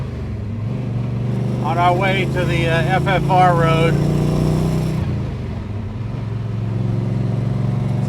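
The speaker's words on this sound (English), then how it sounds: "now we're just cruising the back roads a little bit" A 1965 Ford Mustang Shelby GT350 tribute cruising back roads, a steady low engine drone and road rumble from inside the car, with a person talking over it.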